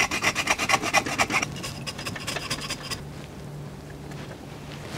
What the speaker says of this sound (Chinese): 用小刀把这个舌苔慢慢的刮洗干净。